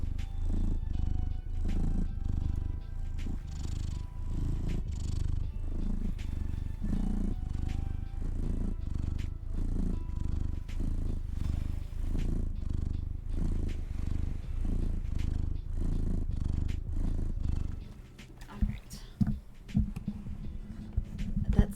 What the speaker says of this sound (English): Big purrs for Big Mathis was big heart, big snuggles.